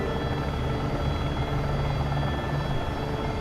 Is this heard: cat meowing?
no